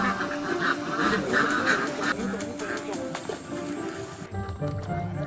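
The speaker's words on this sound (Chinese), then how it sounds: "遗落在田地里的稻穗颗粒为鸭子们备好了户外野餐。" Ducks quack while foraging for leftover grain in a harvested rice field in rural Sichuan, repeated calls at moderate distance, partly under a narrator's voice and background music.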